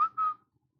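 Two short, bright whistle blasts, the second longer, imitate a train whistle. Nothing else follows, and no talk is heard.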